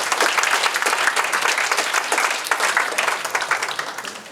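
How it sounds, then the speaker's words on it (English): An audience gives sustained applause for a visiting team from Fukuoka at a New Year business gathering, dense clapping that holds steady and then slowly fades. "so give them a round of applause"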